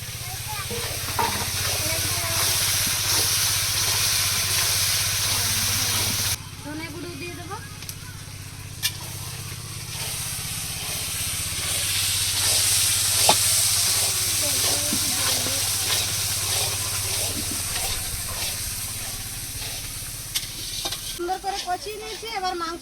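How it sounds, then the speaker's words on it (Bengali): Spices being fried with a splash of water in a large pot for a village feast cooking for a hundred people, a steady broad hiss and sizzle running throughout, with a brief dip partway through and voices talking over it. "মশলাগুলো চার পাঁচ মিনিট ধরে কষিয়ে নেব সামান্য একটু জল দিয়ে মশলাগুলো কষিয়ে নেব"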